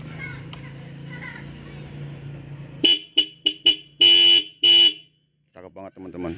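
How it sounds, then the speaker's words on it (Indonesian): The horn of a 2004 RX-King motorcycle honks in a rapid series of short beeps, then two longer blasts, loud and close, over a background of engine idle and distant chatter. "Ini suara klaksonnya stereo banget."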